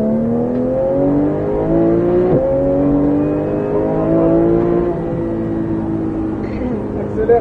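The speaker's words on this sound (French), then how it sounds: "Gaz à fond." A Porsche 911 GT3 engine pulls hard at full throttle on a track during a driving course, a loud continuous rising howl that climbs steadily through the gears with a brief shift break, while an instructor talks over it.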